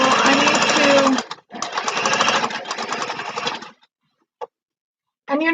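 A sewing machine stitches small fabric bags in rapid, loud mechanical bursts: two long runs separated by a brief pause, then a stop, a faint click, and a short restart.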